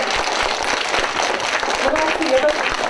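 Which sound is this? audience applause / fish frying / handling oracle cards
audience applause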